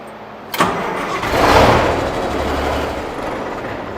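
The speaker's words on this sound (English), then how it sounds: "Please start engine" A car engine cranks and fires up during a battery charging test, an abrupt start followed by a loud swelling roar that settles into a steady, close idle.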